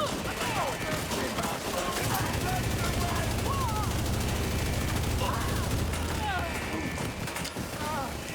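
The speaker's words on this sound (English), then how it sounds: "Something was shooting me in the back." Gunfire in a video game, dense and continuous like a sustained exchange of shots, mixed with other game effects and talking voices.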